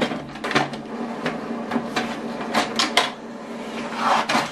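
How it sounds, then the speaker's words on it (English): An HP DeskJet 2710e inkjet printer running off a wireless information page, giving a steady mechanical whir with repeated short clicks and paper-feed clacks at close range, no talking. "So what it's going to do now is going to print the wireless information."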